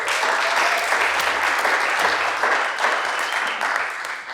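Audience applause at an evening of talk and music, a dense, steady clapping from a crowd that holds at an even level for the whole stretch before tapering slightly at the end.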